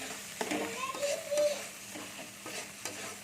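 Mustard paste frying in a pan sizzles steadily up close while a spatula stirs it with soft scraping strokes, and a voice is faintly audible.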